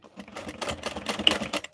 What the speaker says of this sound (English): this is not easy to top stitch